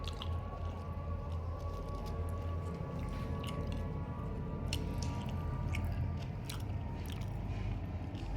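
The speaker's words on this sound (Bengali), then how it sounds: "বড় করে কামড় দাও, নাও কামড় দাও" A child bites and chews pizza close up, with moist squishy chewing and small clicking mouth noises over a steady, loud background hum.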